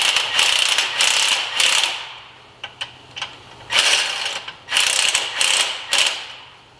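A ratchet tightening bolts on the Y flex pipe of a 2007-2016 GMC Acadia, with repeated bursts of rapid clicking and brief pauses between strokes, close and loud.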